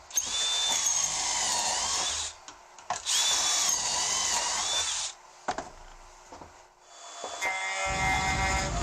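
A power drill bores pocket holes into wood pieces, several sustained whining bursts of steady drilling with brief pauses between them, close and loud.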